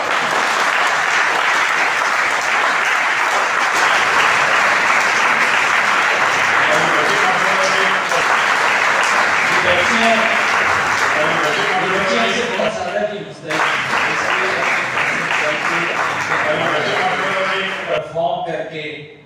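Long, loud applause from an audience cheering special-needs children who became karate champions, dense clapping that holds steady, thins briefly near the end, then swells again before cutting off, with some voices beneath.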